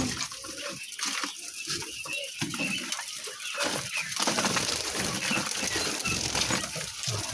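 Quail on a poultry farm chirp and cheep in quick bursts close by while feed is being prepared, over a background of rushing water and busy farm noise.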